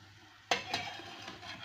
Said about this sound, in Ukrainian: Смажечка наша також ще готується.